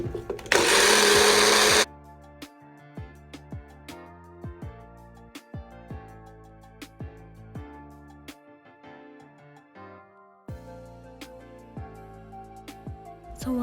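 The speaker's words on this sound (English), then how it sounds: "before I put it on the blender" A loud blender roars for under two seconds and then cuts off, followed by a long run of plucked, music-like tones.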